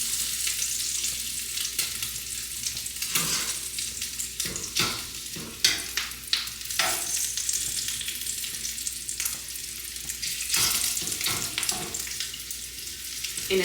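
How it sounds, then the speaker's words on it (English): Bursts of sizzling and crackling as water is sprinkled onto a hot pancake pan, hissing in uneven pulses over several seconds, close and fairly quiet. "we're gonna test this pan real quick by sprinkling in some water."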